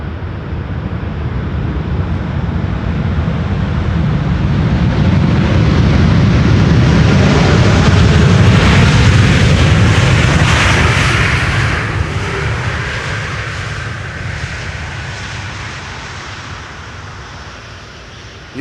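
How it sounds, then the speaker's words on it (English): An Air China Cargo freighter lands on Schiphol's Polderbaan runway with thrust reversers engaged, a loud broadband jet roar that swells to a peak midway and then slowly fades. "Using the reversers."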